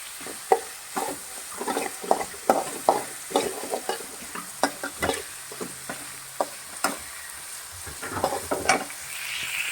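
Tomato and turmeric frying in a pan for a curd tadka, stirred with a utensil: a continuous sizzle broken by frequent close scraping and clanking strokes against the pan, loud and irregular, with no talking.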